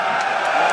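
An esports audience at an EU LCS match cheers for Millennium, a dense, continuous crowd roar heard briefly at steady loudness.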